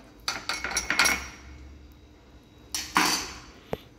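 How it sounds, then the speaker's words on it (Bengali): Burnt charcoal poured into a cup, a few quick clattering bursts of hard pieces hitting the cup, then a pause and another rattling pour and a single sharp click, close and alone. "সো এই বার্ন চারকোলটা আমি এর মধ্যে ঢেলে নিলাম।"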